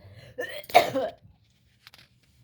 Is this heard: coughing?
yes